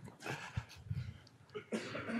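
A few rough, breathy coughs close to the mic in quick succession, fairly quiet, with no speech, from a speaker at a conference keynote.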